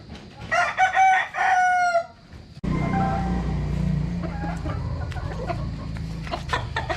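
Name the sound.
Boston Grey stag rooster crowing and clucking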